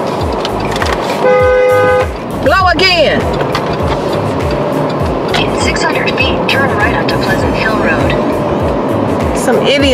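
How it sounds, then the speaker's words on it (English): A car horn gives one short, loud honk on a busy road, set against steady traffic and engine noise, with a voice speaking nearby. "You want to blow the horn."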